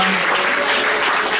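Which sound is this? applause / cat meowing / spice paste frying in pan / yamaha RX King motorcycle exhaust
applause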